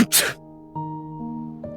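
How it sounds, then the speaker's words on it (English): A single quick sneeze from a man outdoors on a gusty evening, sharp and close, followed by a brief pause and soft tonal music underneath. "a gust passes us and he sneezes"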